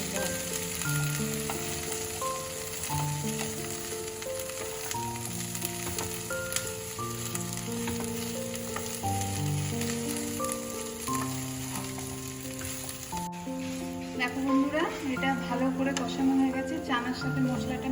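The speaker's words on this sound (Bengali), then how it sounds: "চানাগুলো দিয়ে আবার ভালো করে এর সাথে কষে" Chickpeas sizzle and crackle steadily in a hot pan, with stirring scrapes, while a voice talks over the cooking.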